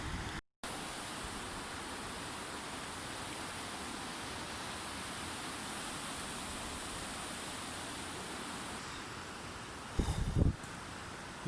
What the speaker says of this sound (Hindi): वो नीचे बर्फ़ के नीचे से पानी आ रहा है।